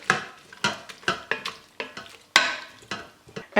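A spoon stirs a soy sauce mixture with red pepper flakes in a pressure cooker pot, giving about ten sharp scraping strokes in an uneven rhythm, close and clear with no talk.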